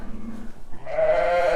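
A young blue Texel lamb bleats once, a clear wavering cry following quieter rustling and low sounds, close by in a lambing setting.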